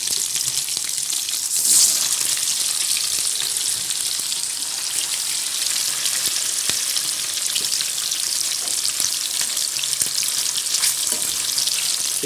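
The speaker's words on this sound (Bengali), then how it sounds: "কড়াতে তেল দিলাম, তেলটা গরম হচ্ছে। এবার আমি মাছগুলোকে ভেজে নেব।" Fish fries in hot oil in a wok, making a loud, dense sizzle that stays steady and continuous from start to finish, with no one talking.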